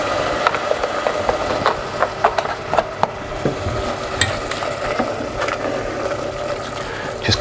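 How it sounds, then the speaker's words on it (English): Chicken stock poured into a hot pan of caramelised food, setting off a loud, steady sizzle with bubbling and scattered clicks and taps of a utensil stirring close by. "So I'm going to go in with a little bit of stock."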